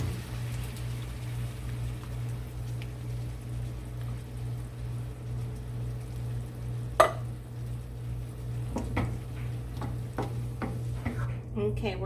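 Canned diced tomatoes go into a pan of shrimp pasta sauce, giving a low steady simmering hiss with scattered spoon scrapes and clacks that grow busier near the end.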